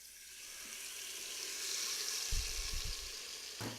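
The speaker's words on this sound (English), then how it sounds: "And now I'm going to deglaze the pan with this liquid." Liquid poured into a hot pan to deglaze it for Brussels sprouts, a rising soft sizzle followed by a few low bubbling thumps near the end.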